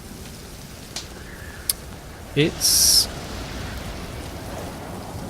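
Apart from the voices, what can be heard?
rain in video game Stranded Deep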